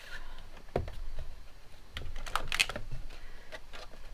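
A long paper trimmer slices through card stock for Christmas card puzzle pieces, with several short, sharp cutting and clicking sounds spaced irregularly, close and fairly clear.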